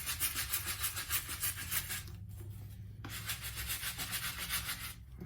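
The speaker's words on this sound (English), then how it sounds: "getting that really good scrub in there" A Nike Dunk Low sneaker is scrubbed with quick, rhythmic back-and-forth brush strokes, faint and close, that continue steadily with only a brief pause.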